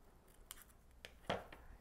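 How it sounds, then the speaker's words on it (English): Scissors snipping paper while trimming an origami bookmark: a few quiet, close cuts spaced apart, ending in one sharper, louder snip. "I'm going to cut off my lines."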